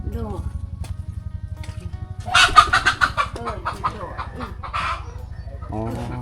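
Chickens cluck around a village of the Pako people near the Vietnamese border, a steady scratchy clucking close by with a burst of louder bird calls midway, while people talk over it.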